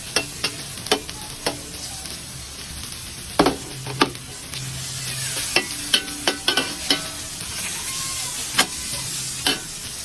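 Aromatics sauté in a stainless steel wok for munggo guisado, a close and steady sizzle broken by frequent sharp metallic scrapes and clacks of the spatula.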